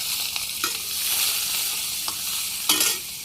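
Chopped raw onion sizzles steadily in hot oil tempered with dried red chillies for a lentil dal, a continuous frying hiss with a few soft stirring clinks and no talking.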